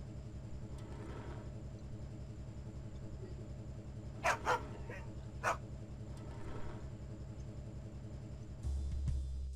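A dog in the video game Larry 7 barks a few times in quick bursts over a steady low engine-like rumble, moderately close and short.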